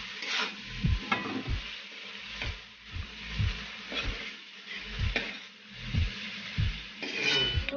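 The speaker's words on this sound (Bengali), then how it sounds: "চিংড়ি মাছ কটা একটু ভেজে নেবো হালকা করে, অল্প করে নুন, অল্প করে হলুদ দিয়ে" Prawns lightly fry in a pan with salt and turmeric, sizzling steadily while a utensil scrapes and stirs in repeated, evenly spaced strokes, close and moderately loud.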